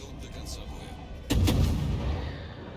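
A warship in World of Warships fires a salvo from its main guns midway through, with a heavy booming blast that rolls away over a low rumble of game noise.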